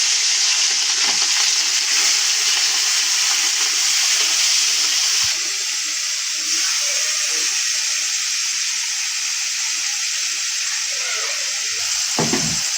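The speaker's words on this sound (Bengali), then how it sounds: "মাছটা ছাড়ছি।" Small fish frying in hot oil in a pan: a loud, steady sizzle and crackle runs the whole time, with a brief stirring clatter near the end.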